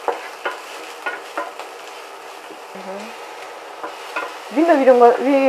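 Carrots and onions frying in a pan while being stirred, with scattered scrapes and clinks of a utensil against the pan over a low sizzle and a few louder stirring strokes near the end.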